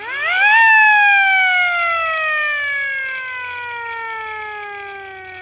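A hand-cranked siren cranked in the opposite direction whoops up quickly to a loud peak and then winds down gradually in a long, falling wail, with no talking over it.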